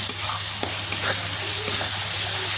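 Spice paste fries in oil with a steady close sizzle and occasional scrape-like stirring ticks, alone without voices, under a low constant hum.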